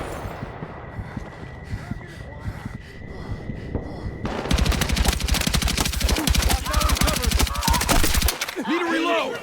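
Heavy automatic gunfire in the Battlefield 6 night raid campaign mission, a dense rapid burst of loud shots starting midway and hammering on for several seconds over rumbling battle noise, with shouted voices in the mix.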